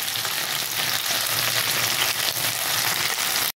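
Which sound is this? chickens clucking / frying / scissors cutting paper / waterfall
frying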